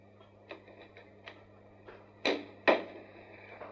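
Door opening and closing inside a radio station's control studio: a run of light knocks and clicks, then two louder, sharper bangs close by, with no voices.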